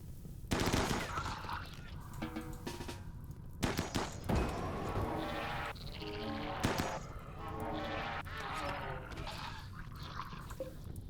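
Repeated gunshots in RimWorld rattle out in quick, fairly faint clusters amid other busy game sounds, continuing through most of the stretch.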